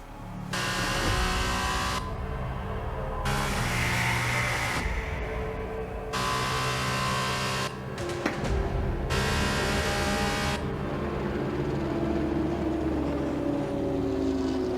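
F2 race cars scream around Abu Dhabi in the F1 2021 video game, their engines holding a loud, continuous high-pitched whine that swells and drops in pulses as the cars pass and shift gears.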